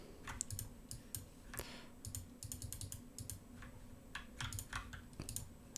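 Irregular bursts of light key clicks as someone types on a computer keyboard, faint and close, with brief pauses between short runs of keystrokes.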